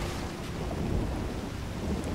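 Thunder from a lightning storm in the video game Grand Theft Auto 5 rolls as a loud, steady, broadband rumble mixed with rain, continuous across the whole stretch with no talking.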